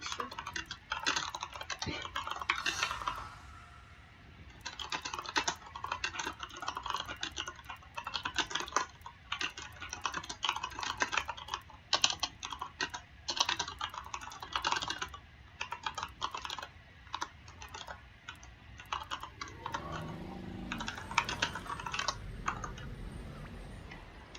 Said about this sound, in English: Sorry for typing too much